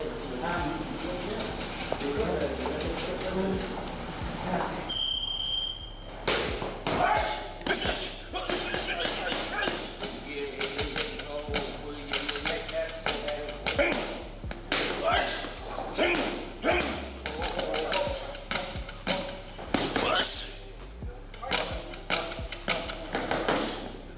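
A boxer throwing rapid punch combinations during training camp, sharp repeated thuds and slaps in quick bursts, while someone talks over them throughout.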